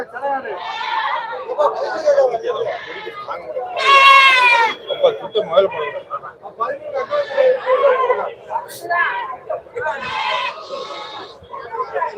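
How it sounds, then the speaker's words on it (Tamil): Goats bleat repeatedly at a busy Tamil Nadu livestock market, loud and close, with overlapping calls rising above a steady hubbub of people chattering nearby. "செம்மறி ஆடுகள் குறைவாக தான் இருக்கும் வெள்ளாடுகள் தான் அதிகமாக இருக்கும்"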